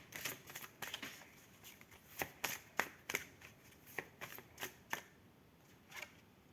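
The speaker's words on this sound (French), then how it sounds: "Je vais retirer une carte." Cards from a tarot oracle deck are handled and drawn, a series of faint, crisp papery snaps and slides in an uneven rhythm in a quiet room.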